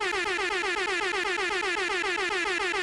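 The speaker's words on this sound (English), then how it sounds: "I did too many air horns, so this one's for you." A loud, sustained air horn blasts continuously for about three seconds, harsh and brassy with a steady pulsing buzz.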